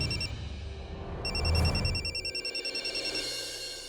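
A telephone rings in an indoor scene of a Hindi TV drama, a rapid electronic trill that starts after a brief swell of background sound and repeats several times, fairly close and clear, with no talking over it.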